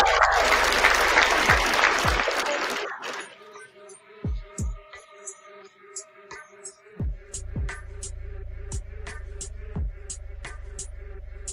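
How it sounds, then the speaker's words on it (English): Audience hand clapping rings out loudly for a few seconds, then fades out into a quieter stretch with low hum and sparse thumps. "Give him a hand clap for that,"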